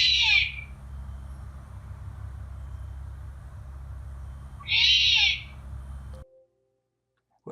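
A recording of two harsh, raspy owl screeches about four seconds apart, played through a speaker near a window screen, over a low steady hum that cuts out near the end.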